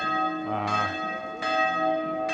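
A church bell rings out in medieval Tours, France, on the Loire, sounding several loud, resonant strikes in a slow cadence with long humming decays that overlap, heard alone without speech.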